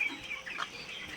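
Chickens on a raised-floor broiler farm cluck softly in a faint, continuous chorus, with a few brief higher calls rising above the steady background murmur.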